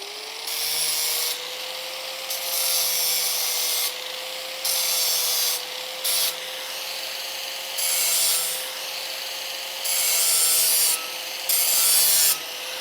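A blade edge being sharpened and deburred along its angle, with a rhythmic series of rasping strokes over a steady motor whine, each stroke a loud, close scrape separated by short quieter gaps.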